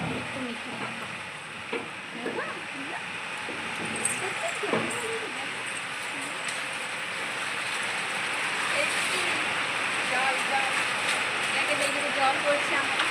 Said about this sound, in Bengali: জল পড়ছে।